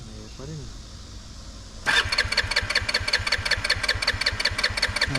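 A boat engine after a fishing trip cranks with a sharp start-up, then chugs in a rapid uneven rhythm for a few seconds and fails to keep running, close and loud, with faint talk earlier.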